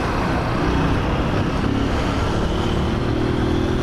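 A motorcycle rides along São Paulo avenues at night, its engine a steady, loud drone close by amid broad road and traffic noise, rising slightly in pitch toward the end as it shifts through gears.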